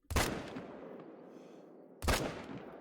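Two sharp rifle shots fired at a whitetail deer in theHunter: Call of the Wild, each a loud crack with a rolling echo, spaced about two seconds apart in quiet woods.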